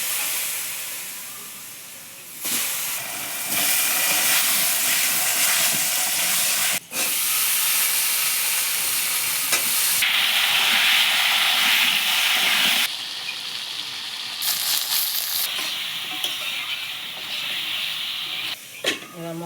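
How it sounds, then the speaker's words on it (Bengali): Potatoes sizzling in hot oil with cumin seeds and bay leaf, a loud, dense hiss that flares and steadies in waves, close and continuous with brief drops. "আলু জিরে তেজপাতা ফোড়ন।"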